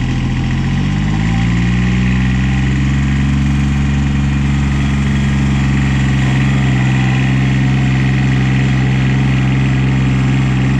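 A Cub Cadet 1772 lawn tractor engine runs with the throttle pulled up, giving a loud, steady drone that rises slightly in pitch at the start and then holds constant.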